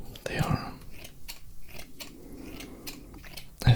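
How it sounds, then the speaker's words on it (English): Scissors snipping during a whispered ASMR unboxing, a few quiet sharp cuts and crunchy clicks close to the mic, faint and intimate with soft background noise. "those scissors don't have too good of a sound"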